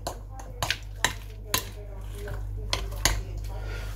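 Diced ham is stirred into a mixture in a bowl for crunchy bread rolls, with repeated scraping knocks of a utensil against the bowl at an uneven pace over a low steady hum.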